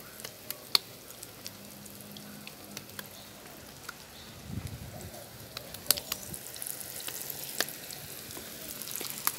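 Quiet crackling sizzle of Salvadoran bean empanadas frying in hot oil, with scattered sharp pops and ticks over a faint hiss and a brief low clatter midway.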